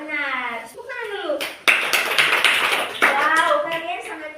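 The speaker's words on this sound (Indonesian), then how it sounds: "Tepuk tangan dulu." Students in a classroom clap in a short, lively burst of applause, with children's voices chattering over it and a teacher speaking just before and after.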